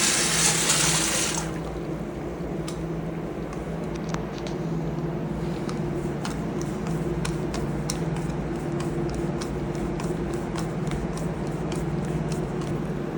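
Water rushing through a newly installed Zurn flush valve on a urinal after the shutoff is opened, a loud burst at first, then a steady flowing hiss with faint ticks, no talk.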